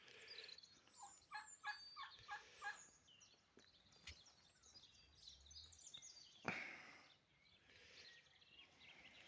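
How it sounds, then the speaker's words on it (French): Turkey gobbling outdoors in the countryside, a quick rattling burst of several gobbles near the start followed by a few scattered calls and a sharp tone, faint and somewhat distant. "Ah bah le dindon."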